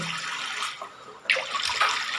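Water drains from a bathroom lavatory sink after its trap was cleared, a soft gurgling flow that swells abruptly partway through and continues steadily, close by with no talking.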